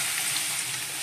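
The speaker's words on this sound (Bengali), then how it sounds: "এবার ডালটা দিয়ে দিচ্ছি।" Boiled chana dal is poured into a pan of fried coconut, cumin and ginger spice paste, making a brief close splash and gush that blends into sizzling, with no talk.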